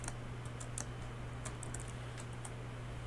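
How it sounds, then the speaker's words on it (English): Fingers tap steadily on a computer keyboard, a quick run of light, close clicks over a constant low electrical hum, with no one speaking. "I'm typing it."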